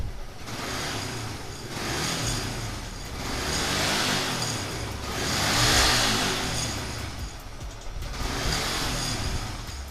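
An old-model Yamaha Vixion motorcycle engine with a sputtering fault is revved to about 4000 RPM. It rises and falls in loud, close swells over a steady engine drone.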